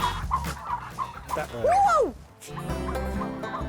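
Turkeys call in a farm pen during feeding, their gobbling and clucking calls rising and falling up close, mixed with a short exclaimed voice and nearby human chatter.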